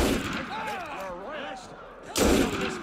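Gunshots in the video game Assassin's Creed Unity: a loud, sharp blast near the end that follows an earlier burst, set against voices and background game noise.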